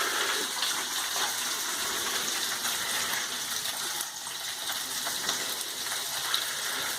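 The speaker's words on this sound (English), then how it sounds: "I'm going to throw that oil away." Oil being poured out of an opened tuna tin makes a faint, continuous splashing trickle with soft gushing texture throughout, with no other sounds.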